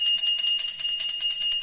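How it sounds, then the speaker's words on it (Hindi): A hand bell rung during Navratri puja worship at a home shrine, its bright metallic tone ringing continuously and fairly loud in rapid repeated strikes throughout, with no talking. "और घंटी भी बजाई।"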